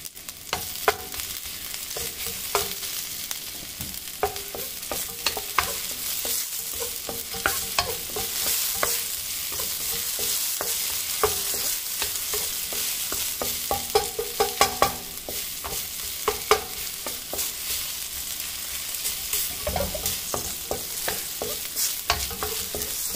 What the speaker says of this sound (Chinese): 我喜欢先把这点蒜片煎一煎，有香味